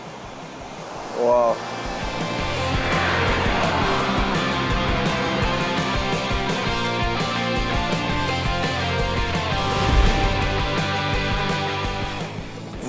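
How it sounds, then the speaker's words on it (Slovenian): Dettifoss in Iceland, Europe's most powerful waterfall, roars as a steady broadband rush that fills the whole clip, with a voice briefly exclaiming over it. "Najmočnejši slap v Evropi."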